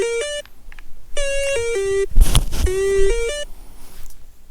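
A phone ringtone for an incoming call plays as three bursts of a melodic electronic tune, loud and close, with a brief noisy clatter between the second and third bursts.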